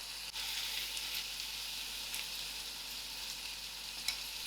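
Biryani dhal with added tomatoes and salt sizzles steadily in a pan while being stirred, giving a soft, continuous crackling hiss with occasional faint scrapes.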